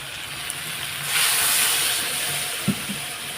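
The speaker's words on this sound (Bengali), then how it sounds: "এখন আমি কষিয়ে নেব সব এক এক করে মশলা এখন কষিয়ে নেবো একটু জল দেবো" Spices sizzling in a pan with a little water added, frying for dal in a home kitchen: a steady close hiss that swells briefly, with a faint clink near the end.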